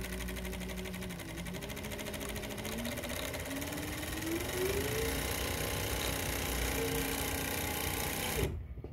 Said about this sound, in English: I'm sewing right now,